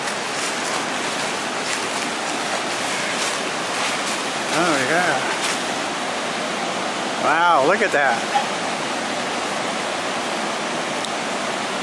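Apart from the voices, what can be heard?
McKenzie River flowing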